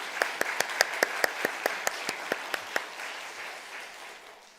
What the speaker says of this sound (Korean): 우리 목사님 큰 박수로 한번 축복하고 격려하겠습니다